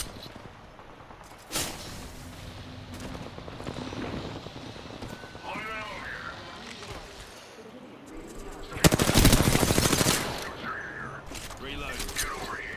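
Video game gunfire during a battle royale match: scattered shots and clatter build to one loud, dense automatic burst near the end, with a voice talking over parts of it.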